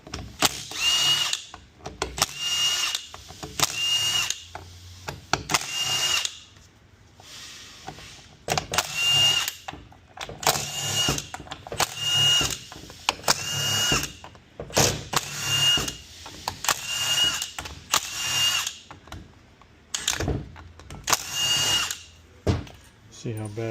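Power tool spinning out bolts on a 6L80E transmission with 7, 8 and 10 mm sockets, in repeated loud bursts of several seconds separated by brief pauses, with some talk in between.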